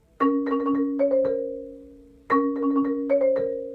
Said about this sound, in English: a series of 16 notes grouped in 3s with accents